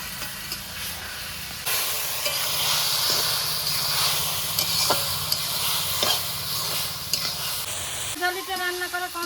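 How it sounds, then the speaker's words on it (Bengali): Bottle gourd curry cooks in a pan while being stirred, producing a loud, steady hiss and sizzle with occasional scraping clicks. A voice speaks briefly near the end. "এবার নেড়ে চেড়ে এটাকে রান্না করে নেব"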